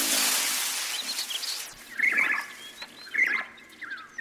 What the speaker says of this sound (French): Écoute, l'oiseau écarlate.